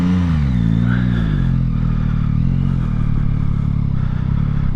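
A Yamaha Tracer 9 GT+ motorcycle being ridden, heard as a continuous loud engine drone with rushing wind noise and a slight pitch rise early on, with no break throughout.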